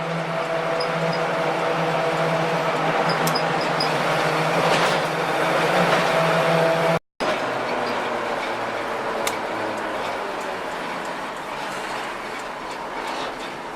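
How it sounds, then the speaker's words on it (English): Continuous broadband road roar from tires rolling at speed, heard from inside a 1974 Ford Bronco, steady throughout with a momentary dropout midway. "the real noise is the tires"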